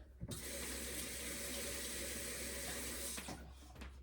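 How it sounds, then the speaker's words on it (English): Hands are rinsed under a running kitchen tap, a steady close splash of water that starts abruptly and stops after about three seconds, without speech. "Give my hands a quick rinse real fast."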